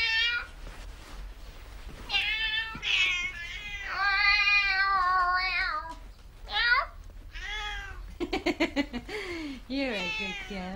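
A house cat meows repeatedly, with drawn-out, wavering calls and a rapid burst of short chirpy meows, close and clear over a quiet room.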